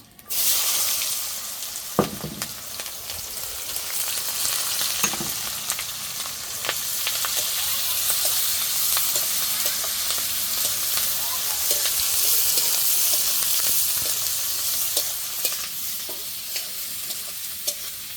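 Whole cumin, green chilli and chopped onion frying in leftover fish-frying oil, a loud continuous close sizzle with occasional utensil scrapes and taps as the pan is stirred.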